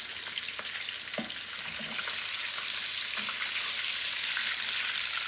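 Stuffed eggplant fries in hot oil with a steady, hissing sizzle sprinkled with small pops and crackles, constant and fairly close, no voices.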